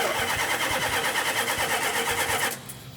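A 1972 Dodge Charger Rallye engine runs loud and close with a rhythmic, pulsing churn, then cuts out abruptly near the end, leaving quiet background.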